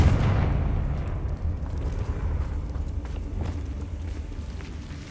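A Confringo blasting spell explodes in the Hogwarts Legacy video game, opening with a loud, booming low rumble that slowly fades over several seconds, with scattered crackles and thuds from combat around it.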